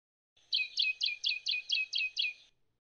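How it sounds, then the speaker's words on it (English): A healthy medium tree finch sings a clear series of eight rapid, evenly spaced high chirps, close and clean against silence. "So this is the sound of a medium tree finch that's normal and healthy."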